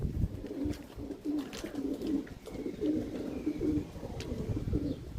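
Pigeons coo in repeated soft, low phrases at moderate distance, a steady rolling series over faint rustling background.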